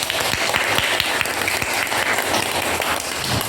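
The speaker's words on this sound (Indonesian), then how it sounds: "Beri aplaus untuk Dava" Classroom applause for a student, a dense burst of many hands clapping continuously and fairly loudly for a few seconds, with no pauses.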